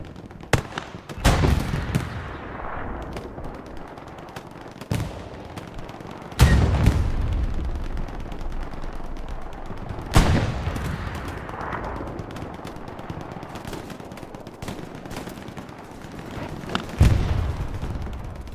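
Artillery shells crash in a World War II battle on Utah Beach in Hell Let Loose, several heavy booming impacts spaced seconds apart over a constant rumble of distant gunfire and battle noise.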